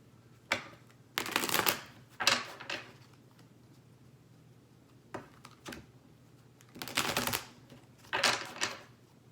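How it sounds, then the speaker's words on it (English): Tarot cards are shuffled and drawn in several quick riffling bursts, each a second or less, separated by near-silent pauses, close and fairly quiet. "let me pull some more cards"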